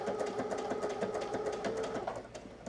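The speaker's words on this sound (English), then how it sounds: "I'm going to sew all the way across" A sewing machine stitches a button-down shirt seam in a fast, even mechanical rhythm, running close and steady throughout.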